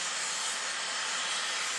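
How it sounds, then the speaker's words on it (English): A steam locomotive boiler relief valve blowing off excess pressure, giving a continuous loud, bright hiss of venting steam that holds steady throughout with no voices. "the relief valve just blew off. That means he's got too much steam pressure in his boiler"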